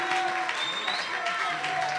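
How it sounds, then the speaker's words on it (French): A crowd at a comedy show applauds the comedian Gas Fabulous in a steady wash of clapping and cheering, with voices talking over it. "Est-ce qu'on peut applaudir pour Gas Fabulous, s'il vous plaît?"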